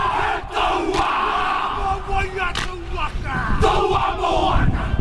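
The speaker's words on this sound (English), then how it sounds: "The New Zealand military haka wowing the local Japanese crowd" New Zealand military performers chant and shout a haka in unison before a Japanese crowd at a rugby match, loud rhythmic yells and stamping with crowd noise mixed in, continuous and close.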